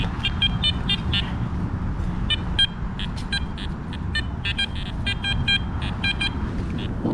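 Garrett Ace Apex metal detector sweeping ground during a hunt in New York City, giving repeated short electronic beeps and chirps in quick irregular bursts over steady outdoor background noise.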